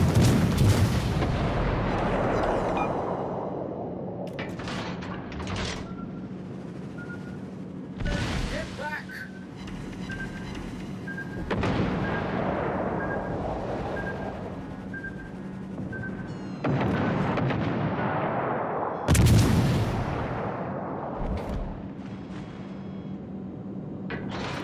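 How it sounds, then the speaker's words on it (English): Naval gunfire aimed at an enemy warship in a video game, with several heavy booming salvos spaced several seconds apart over a constant engine-like drone, and a voice speaking between the blasts. "Concentrate fire on the enemy warship."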